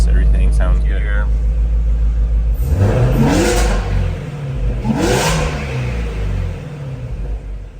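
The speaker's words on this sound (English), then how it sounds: "Blower is very loud on this car." A supercharged Shelby GT350 engine revs up twice in a row, rising and falling, with a rumbling idle and loud blower whine in between.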